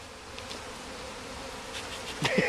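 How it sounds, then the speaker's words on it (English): Agitated honeybees buzzing while a hive is split, a low steady hum with a sudden louder burst of close buzzing near the end. "Oh, they are not happy."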